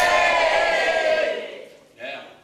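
Pantomime audience cheering and shouting for Robin Hood, a loud, sustained crowd roar that fades out, followed by a shorter burst of voices.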